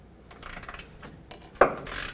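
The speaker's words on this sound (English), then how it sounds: "I'm going to use a 21mm socket on the back, on the nut side, to take the nut off" A ratchet with a 21mm socket turning the nut off a 1997-2003 Ford F-150 upper control arm bolt: a short burst of close, rapid ratchet clicks ending in a sharp metallic clack.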